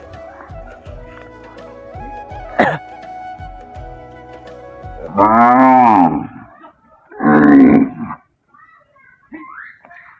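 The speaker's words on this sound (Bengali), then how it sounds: "দেখতে পাচ্ছেন কতগুলো গরু মাঠে চড়ানোর জন্য নিয়ে যাচ্ছে" A herd of cows being driven along a road to graze, with long, loud drawn-out moos from nearby animals, one after another, over a background of hooves, rustling and light street noise.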